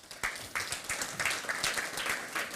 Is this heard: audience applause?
yes